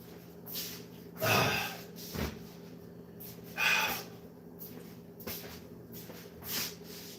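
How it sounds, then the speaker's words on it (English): A person blows their nose in several short, forceful bursts spaced a couple of seconds apart, close and fairly quiet against a low background hum. "I got to blow my nose"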